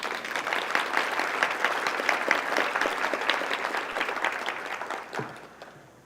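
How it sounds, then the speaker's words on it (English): Conference audience applauding the volunteers: dense, steady clapping from many hands that holds evenly for several seconds, then thins and fades away near the end. "That deserves applause,"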